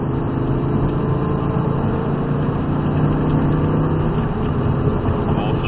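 Audi R8 sports car on a driving-experience track, its engine building power in a loud, steady close-up roar that holds for several seconds under wind noise.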